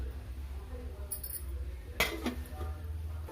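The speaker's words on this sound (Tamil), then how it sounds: "இதை மூடி வச்சிடலாம்" A lid set onto a cooking pot of samba rava upma, with a faint clink followed by a sharper metallic clatter, quiet against a low background hum.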